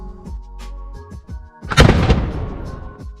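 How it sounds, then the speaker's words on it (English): A heavy cannon-like boom cracks out after some background noise at a 17th-century fort in St. Augustine, Florida, its deep rumble rolling on and slowly fading over a couple of seconds. "they still fire cannons off of it today"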